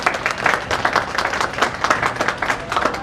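An audience at a Guru Purnima religious gathering applauds with dense, steady clapping that carries on throughout.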